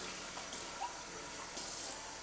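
Faint, steady water running from a tap while a Cosori Turbo Tower Pro air fryer basket is rinsed, a continuous soft gush with a couple of small splashy shifts and no talk.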